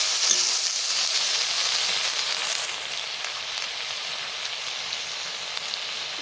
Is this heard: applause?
no